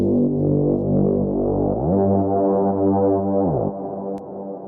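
A fat synth saw wave with the multi-mode turned up, a thick sustained chord that shifts down in pitch partway through and then cuts to a quieter tail, heard alone with no talking.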